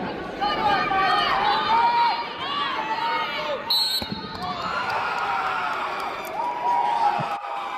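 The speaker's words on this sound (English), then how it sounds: "She's getting the crowd hyped." A crowd at a state wrestling championship match cheers, shouts and whoops, with excited voices rising and falling throughout and brief squeaky thuds from the mat area.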